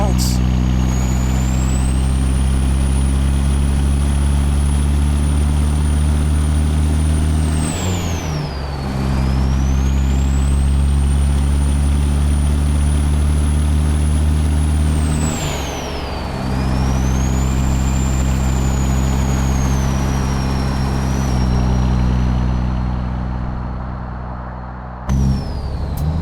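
A Ruda 389 truck in American Truck Simulator rumbles with a loud, steady low engine drone that swells and dips twice as it goes by. It finally drops away as it draws off into the distance.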